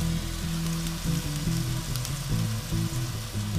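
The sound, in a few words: tuna searing in a pan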